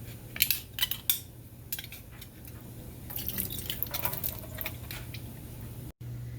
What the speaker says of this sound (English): going to drain these mushrooms